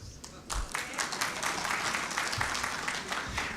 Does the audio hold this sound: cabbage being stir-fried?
no